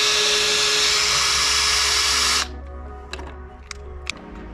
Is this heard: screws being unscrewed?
yes